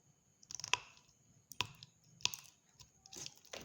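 Crimping pliers snipping wire, heard as three or four sharp, close metallic clicks spaced about half a second to a second apart, quiet between cuts.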